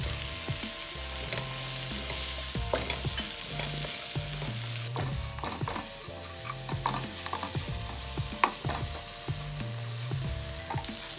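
Tomatoes sauté in a pan for shrimp biryani, a continuous loud sizzle with rhythmic scraping and stirring strokes throughout.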